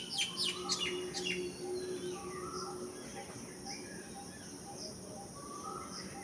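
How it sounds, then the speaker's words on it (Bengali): Several birds call and chirp over a rooftop garden, among them a koel and a myna, with bright repeated whistles and chatter at a moderate distance over steady background hum. "এখন দেখুন কোকিলও ডাকছে, কোকিলের আওয়াজও পাওয়া যাচ্ছে, শালিক পাখির আওয়াজ পাওয়া যাচ্ছে"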